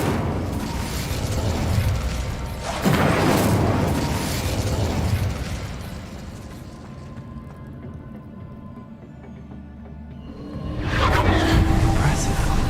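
Incendio fire spell cast in Hogwarts Legacy: a loud whooshing burst of flame with a booming onset at about three seconds, fading into low rumbling, then another bright surge near the end, with game sounds throughout.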